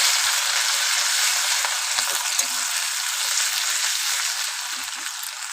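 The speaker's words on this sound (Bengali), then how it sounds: "আদা কুচিটা দিয়ে খুব ভালো করে কিন্তু একটু ভেজে নেব।" Grated ginger fries in oil in a pan with a steady, bright, close sizzle and a few faint stirring knocks, no voices.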